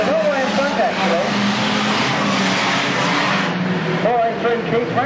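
An all-green Magnificent 7 banger race car leads the field with a loud engine roar and tyre noise, and a commentator talks over it.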